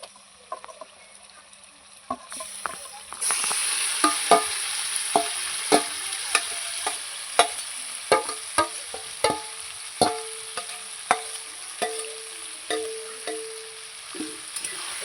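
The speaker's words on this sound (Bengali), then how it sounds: "খুন্তি দিয়ে ভালো করে নাড়াচাড়া করে আমি মাংসটাকে অনেকক্ষণ ধরে কষাবো" Goat meat frying in hot oil after onions, a sizzle that swells as the meat goes in, then regular, fairly loud scrapes and knocks of a metal spatula stirring, without talk.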